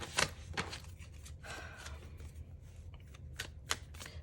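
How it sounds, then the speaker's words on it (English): Oracle cards being shuffled by hand close to the microphone, with a series of crisp riffling snaps and soft slides spread irregularly across a few seconds in a quiet room. "I'm going to go ahead and shuffle for your oracle cards"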